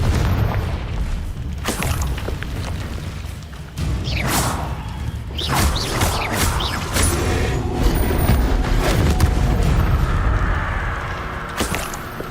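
Spell blasts in Hogwarts Legacy: a string of loud booms, whooshes and crashing impacts, close and overlapping, with brief sharp hits breaking through a dense rumbling bed throughout.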